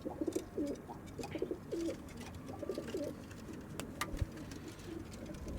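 Repeated soft pigeon coos from a rooftop, a few rhythmic phrases close by, over a busy background of faint rustling and distant ambient noise.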